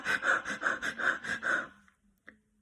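A person demonstrates breathless heavy breathing as a breathing exercise, with about seven rapid, loud, rhythmic gasping breaths close to the listener, then quiet with one final short exhale.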